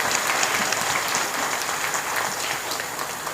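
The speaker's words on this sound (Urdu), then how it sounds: "3-4 تالیاں میرے لیے کافی" Steady, dense applause from an audience at an Urdu poetry recital (mushaira), loud and continuous throughout, with no speech over it.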